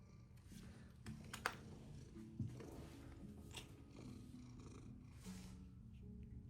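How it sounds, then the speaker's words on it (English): A cat lying on a lap during a watercolor painting session purrs in a low, steady rumble, faint and close, with occasional soft taps and rustles on top. "I got Maxwell on my lap, bumping my arm."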